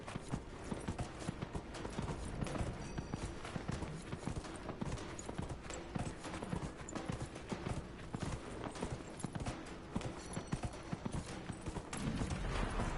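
Galloping horse hooves drum steadily and loudly through horse racing in a video game, a continuous dense clip-clop running the whole time with no voices.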